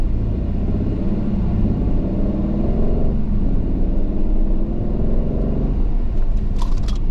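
A 2023 Aston Martin Vantage F1 Edition accelerating hard in automatic drive, its engine rising through shifts in a loud, close rumble, then easing off as it brakes to a stop, with a brief squeak at the end.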